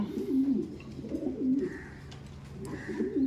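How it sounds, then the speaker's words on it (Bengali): A black Mundian pigeon coos in low, throaty, rolling phrases, steady and close, with a faint higher chirp breaking in now and then behind. "কালো মন্ডিয়ান কবুতর, একেবারে ফ্লোর টাচ দেখতেছেন"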